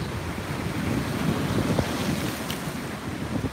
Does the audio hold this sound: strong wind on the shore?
yes